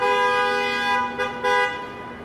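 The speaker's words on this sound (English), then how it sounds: "People love to honk here." Car horns honk on Wall Street in New York, a sustained tonal blare lasting about a second, then a second long honk after a brief gap, loud and fairly close amid street traffic.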